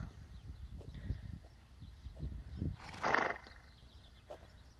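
A horse snorts or blows loudly once near the middle, with shuffling movement and faint background noise around it.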